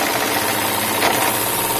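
Steam engine of the tug Aggrip driving its two propeller shafts, a steady close mechanical hum with a continuous even rhythm and no talk.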